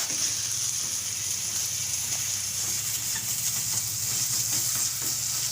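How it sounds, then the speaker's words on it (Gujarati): Hot milk poured onto roasted samo millet in a pan for shiro, giving a steady, loud sizzle and bubbling hiss with faint stirring, close up and without talk. "હવે આપણે આ દૂધને એ આપણે છે એ ગરમ કરેલું નાખી દેવું"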